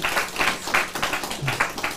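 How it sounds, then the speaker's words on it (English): A class audience applauds at the end of a session with a brief, moderately faint patter of clapping. "A huge round of applause."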